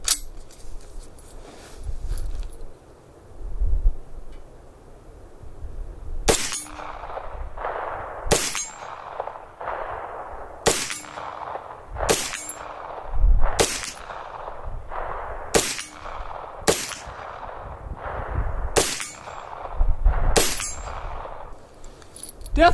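Sharp 9mm pistol shots ring out one at a time at an outdoor range, about ten in steady succession, each followed by a bright metallic clang from steel targets, after a quiet start.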